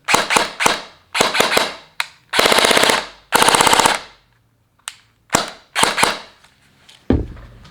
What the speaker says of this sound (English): What does it sound like without the suppressor, you may ask?